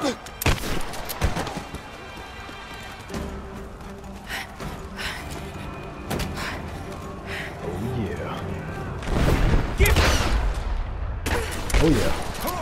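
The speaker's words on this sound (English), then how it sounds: "We're under fire" Gunfire from Rise of the Tomb Raider, with repeated shotgun blasts and bursts of shots scattered across a busy game soundscape, loud and punchy, mixed with gasps, running and voices talking.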